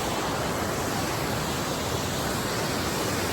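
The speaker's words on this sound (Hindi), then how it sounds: "देख लीजिए पानी कैसे गिर रहा है" Waterfall at Lakhaniya Dari pours in a steady, loud, broadband roar of falling water, continuous and unbroken throughout with no voices.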